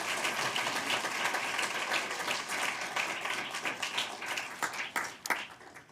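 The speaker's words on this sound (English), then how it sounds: "if we could give all of our teachers one more round of applause" Steady round of applause from the audience at a Pinellas County school board meeting honoring teachers, dense clapping that carries on for several seconds and thins slightly toward the end.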